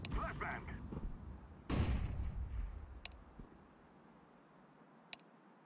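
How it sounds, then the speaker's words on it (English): A flashbang grenade goes off in Counter-Strike on Source 2 as one sharp boom with a decaying rumble, preceded by faint game noise and fading to quiet. "Throw in the flashbang!"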